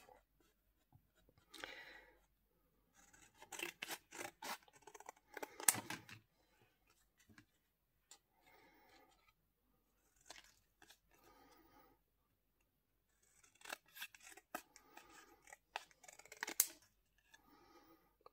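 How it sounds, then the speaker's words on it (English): Scissors cutting strips from an old painting: short, crisp snips in clusters separated by quiet gaps, close and soft. "now what I'm going to do is cut strips."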